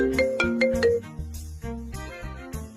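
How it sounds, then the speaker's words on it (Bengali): A mobile phone ringtone plays for an incoming call, a bright repeating electronic melody of quick tonal notes, loud and close, with no talk over it. "আমার কল আসছে"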